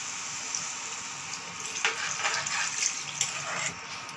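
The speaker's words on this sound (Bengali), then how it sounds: "এবার আমি এর মধ্যে জল দিয়ে দেবো" Water poured into a pot of chicken soup being cooked at home, a steady splashing pour that runs continuously for a few seconds at moderate closeness, with no talking.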